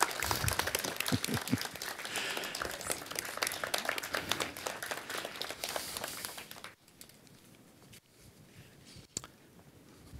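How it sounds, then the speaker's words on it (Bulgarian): Audience at a mayoral campaign event in Pleven applauding, a lively burst of clapping for about six seconds that then drops off abruptly, leaving quiet room noise and a few scattered claps. "Моля аплодисменти."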